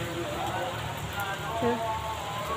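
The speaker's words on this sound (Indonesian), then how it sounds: "Ini saya masih menunggu hujan reda, sahabat." Heavy rain falls steadily on a village, a dense continuous hiss and patter with faint scattered sounds mixed in.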